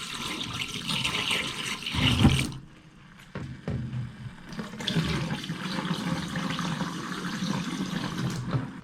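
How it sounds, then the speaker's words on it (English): Pink RV antifreeze is poured into the drain P-traps of a 2022 Keystone Montana camper, a steady splashing gush with a brief louder surge, a short pause, then continued trickling and flow, close up with no talking. "Last thing we got to do is close out the process is pour pink antifreeze into our P-traps."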